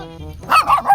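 A pet dog belonging to a boy named Potpot barks angrily outdoors, several close, sharp barks bunched in the second half after a quieter opening with a low tonal hum.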